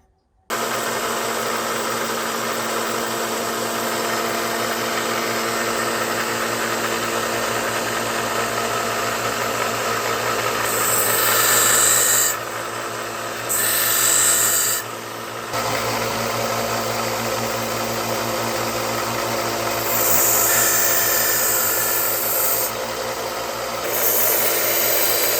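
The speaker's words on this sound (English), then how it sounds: "so I decided to use the sander here, and it did a great job. So now I'm fixing to reshape this blade" A power sander grinds steadily on the blade of a vintage 1940 Remington RH-71 knife, a constant buzzing whine with brief pauses and shifts in pitch as the blade is pressed and lifted.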